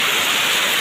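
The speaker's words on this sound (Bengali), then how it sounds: "খুব বৃষ্টি হচ্ছে, মানে অতিরিক্ত বৃষ্টি হচ্ছে" Heavy morning rain falls in a dense, steady hiss with no breaks, loud and close throughout the short stretch.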